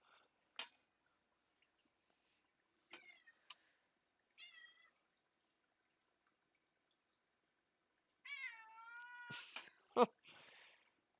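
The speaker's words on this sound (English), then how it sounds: "Got the cat here just howling over here." A house cat howls and meows in a quiet room, several separate drawn-out wavering cries spread across the stretch, the loudest and longest near the end, with silence between them.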